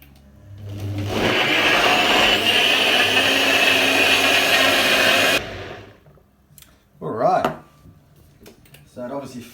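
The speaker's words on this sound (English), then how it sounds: "We've had some different blenders in the past, I won't name which ones. And they're louder than that." A Nutribullet 1200 Series blender whirs loudly for several seconds with a steady high-pitched grinding roar, then cuts off, followed by brief clatter and quieter handling noises.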